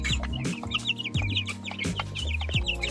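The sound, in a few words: chickens clucking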